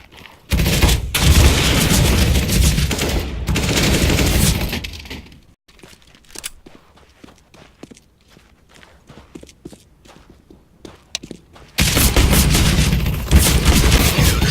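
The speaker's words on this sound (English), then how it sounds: "I'm throwing a flashbang." A flashbang and gunfire in the Counter-Strike video game. Loud dense bursts of shots open the clip, then quieter footsteps and scattered clicks follow before another loud burst of fire returns at the end, with no talk.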